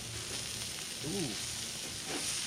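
Food sizzles on a grill mat over a camping-style grill, a steady close hiss with faint crackle running throughout while a voice briefly murmurs over it.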